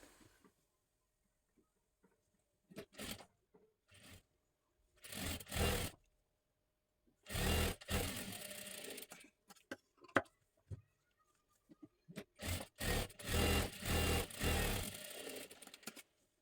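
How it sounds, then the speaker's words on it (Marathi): A sewing machine double-stitches lace onto a puff sleeve in several separate bursts of rapid stitching, some short and some a few seconds long, with quiet pauses between them. "इथे आपल्याला पूर्ण लेस लावून घेऊन डबल शिलाई मारून घ्यायची आहे"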